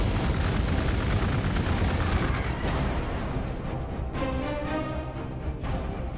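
Dense, continuous bursts of gunfire and booming impacts from the strategy game Warhammer 40,000: Gladius, with Space Marines fighting, fill the clip, loud and unbroken, with no talking.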